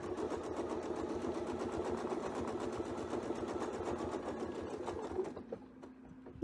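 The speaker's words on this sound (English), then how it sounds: "right now, we want to sew over essentially 2 inches" A sewing machine stitches along a heart quilting template, a steady, fast, quiet whirring chatter heard close up that slows and stops near the end.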